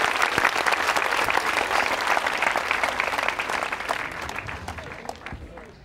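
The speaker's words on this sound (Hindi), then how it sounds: "मृणाल गौड़ जी के लिए तालियां जोरों से बजाइए आप।" A quiz-show audience at a women's engineering college in Ajmer applauds a contestant, a full sustained round of clapping that gradually fades toward the end.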